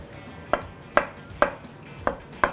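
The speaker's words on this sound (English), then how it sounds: "then I'm gonna cut into a couple avocados" A knife cuts through a couple of avocados on a board, giving five crisp, evenly spaced chopping knocks close up, each with a short bright attack over a quiet kitchen background.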